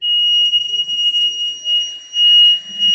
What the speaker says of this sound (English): Okay, so I set off an alarm.